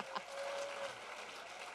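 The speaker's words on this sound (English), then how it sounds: "So please stand up and receive a nice round of applause." A seated audience at an Oktoberfest women's awards event gives a brief round of applause, a soft continuous patter of many hands heard from a distance.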